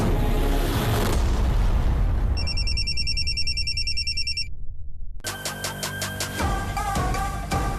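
A telephone ringtone sounds during a call, a bright repeating chime pattern that starts partway through, then changes to a denser electronic melody after a low thump, close and clear.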